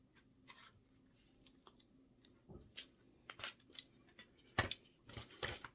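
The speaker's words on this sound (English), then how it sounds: "if you cut with these scissors, just right across here, just to shorten up this fuzzy stuff on the side" Scissors snip through the fuzzy nap on the edge of a paint roller cover while it is shaped into a carrot, giving scattered crisp cuts and rustles that grow louder and denser toward the end.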